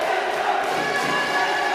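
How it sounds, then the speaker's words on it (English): Crowd noise at a women's university basketball game between St Augustine and Cave Hill, a steady, dense roar of cheering and shouting voices throughout, with no clear breaks. "The crowd is getting very involved."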